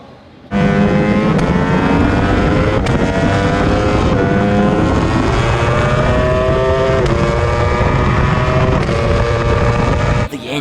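A Ducati Panigale V4R superbike engine screams loud and close on a racetrack, its rising pitch climbing through several gear changes with brief dips between them, then cutting off at the end.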